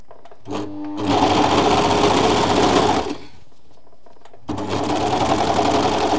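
A sewing machine stitches the neckline of a fabric top in two rapid, loud bursts of close, buzzing stitching separated by a short pause.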